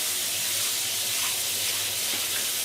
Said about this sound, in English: So this is how you clean a frying pan from the dinner that you made with bacon and